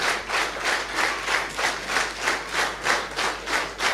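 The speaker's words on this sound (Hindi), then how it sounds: "जोरदार तालियां सर के लिए, जोरदार।" An audience claps loudly at a training program session, the applause steady and dense with a swelling, pulsing rhythm throughout, no voices over it.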